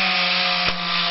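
A chainsaw runs at steady full throttle while tree branches are cut up outdoors, a loud continuous close engine drone with a brief dip near the end, no voices.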